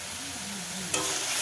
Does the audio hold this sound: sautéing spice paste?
yes